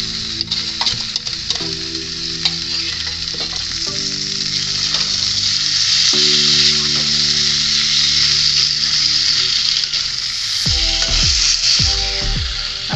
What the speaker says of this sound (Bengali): এবার পনিরের টুকরোগুলো আমি দিয়ে একটু কষিয়ে নেব।